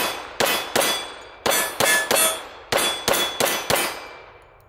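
A dirty Girsan 1911 pistol with about 500 rounds through it fires roughly eleven loud, sharp shots close by, in quick strings of two to four with brief pauses and no talking.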